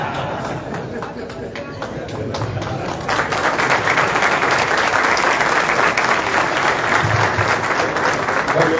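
A crowd of supporters at a political gathering of newly elected federal deputies bursts into loud applause partway through, the clapping swelling and staying strong to the end, with voices murmuring underneath.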